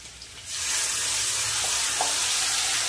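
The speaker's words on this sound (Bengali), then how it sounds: "এখানে আলু আর পেঁপে ভালো করে ভাজা হয়ে গেছে, বেটে রাখা মশলাটা দিয়ে দেবো" Ground spice paste of green and ripe chilies, ginger, tomato and cumin hits potato and papaya frying in a pan, and a loud, steady sizzle swells up suddenly and holds.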